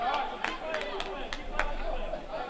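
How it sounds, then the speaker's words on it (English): Students and parents chatter in a steady, blended murmur at a girls basketball game between Davidson and Bryant. Indistinct voices and crowd noise fill the gym continuously. "And tonight we have the crowd, the students coming out, students,"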